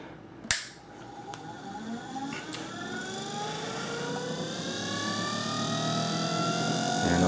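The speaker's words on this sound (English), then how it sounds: "So let's go ahead and turn it on. I'll show you the motor. You can hear it wind up." A replica StarGate motor spins up after a sharp click, its whine rising steadily in pitch and growing gradually louder as it winds up, fairly faint and alone.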